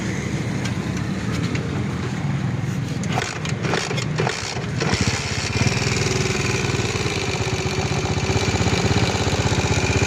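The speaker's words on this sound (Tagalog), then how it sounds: "meron tayo dito titingnan na maingay yung makina" A Honda TMX 155 motorcycle engine needing an overhaul runs roughly and loudly up close, a steady rattling drone like a coffee grinder that grows slightly heavier partway through.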